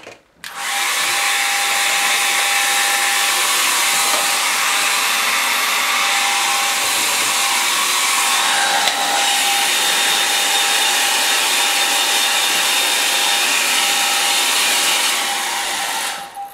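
A hair dryer runs steadily and loudly for about fifteen seconds, drying a watercolour painting of sand dunes, with a brief start and stop at either end and no talking.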